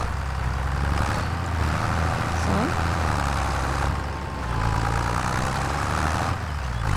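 A tractor engine in Farming Simulator 25 drones steadily at a low pitch, running continuously at moderate loudness while the player drives on.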